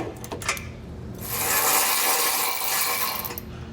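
A socket wrench ratchets on a bumper beam nut during a Curt trailer hitch receiver install on a 2021 Mercedes, first a few quick clicks, then a steady close, loud rasping run for about two seconds.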